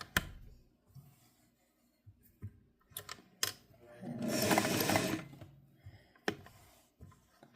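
A Singer 401A Slant-o-Matic sewing machine runs a burst of stitching for about a second amid scattered clicks and handling knocks, close by and fairly loud.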